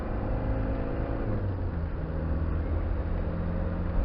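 A Land Rover Discovery 300tdi diesel engine pulling steadily under acceleration, its turbo boost adding to a constant droning rumble heard from inside the vehicle, with no voices.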